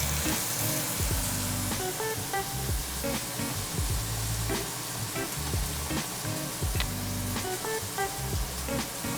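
A ribeye steak sears in melted butter in a smoking-hot pan, giving a steady, loud, close crackling sizzle with little pops throughout and no voices.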